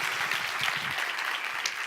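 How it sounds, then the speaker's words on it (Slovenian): A seminar audience gives itself a loud round of applause after a warm-up, dense steady clapping from a room full of people throughout, without speech. "si damo en glasen aplavz"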